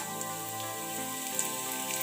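Whole spices (cinnamon, cardamom, cloves, star anise and fennel) fry in hot oil in a pressure cooker for prawn biryani, giving a soft, steady sizzle and crackle under faint tonal background sound.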